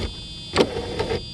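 A power window regulator motor runs inside the door of a Mercedes 600SEC in two short whirring bursts, close and moderately loud, over a faint steady electrical hum.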